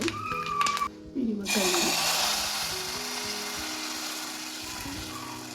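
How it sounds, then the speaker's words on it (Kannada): A tempering of curry leaves, dried red chilies, green chili and a little water crackles in a hot pan, a loud burst of sizzle briefly cut off, then a steady hiss that slowly softens. "ಸ್ವಲ್ಪ ಕರಿಬೇವು, ಹಾಗೆ ಸ್ವಲ್ಪ ನೀರು, ಒಂದು ಅರ್ಧ ಚಮಚದಷ್ಟು ಹಸಿಮೆಣಸಿನಕಾಯಿಯನ್ನು ಹಾಕಿ ಒಗ್ಗರಣೆನ ಮಿಕ್ಸ್ ಮಾಡಿ"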